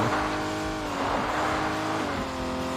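A rally car engine in an old-school rally video game snarls loudly and steadily throughout, holding a continuous revving drone with slight pitch shifts as it accelerates, with no talking.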